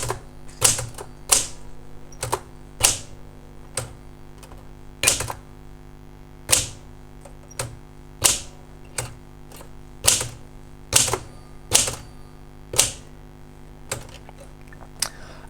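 Typewriter keys on a Princess 300 struck one at a time in an irregular rhythm, each a sharp close clack with about twenty strokes over fifteen seconds, under a faint steady hum.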